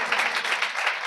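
Many hands clap together in a Sunday church congregation, a steady, full round of applause that carries on evenly throughout with no speech on top.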